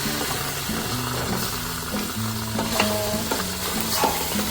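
Pork pieces go into a pot of thick kare-kare sauce and get stirred, with steady sizzling and bubbling, scraping and clinking of the spoon against the pot, close up and without talk.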